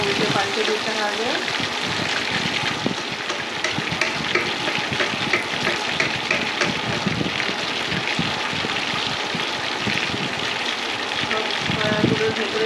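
Soya kebabs coated with a light dusting of semolina frying in a pan of oil, a steady dense sizzle throughout with occasional scraping and stirring as pieces are turned.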